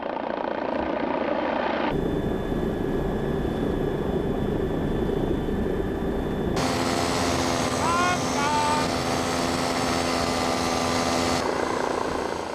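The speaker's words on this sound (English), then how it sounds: "The helicopter stays some way away." A helicopter's rotor and engine hum steadily from a distance, with engine tones shifting partway through and faint bird-like chirps at one point.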